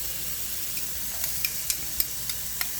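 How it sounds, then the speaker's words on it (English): Minced garlic hits a hot pan over medium-high heat for a Mexican-style ground beef casserole, giving a steady close hiss broken by sharp, evenly spaced crackling pops. "I'm going to add the garlic"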